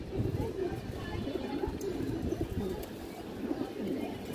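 Pigeons coo close by, among them a black-necked female of an old local flying breed, with low repeated coos and a few short chirps over a busy loft background.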